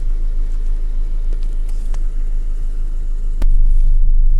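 A white 2009 Honda Civic Type R hatchback, three-door with a 2.0 i-VTEC engine, idles with a steady, even low rumble heard from close by, broken once by a sharp click.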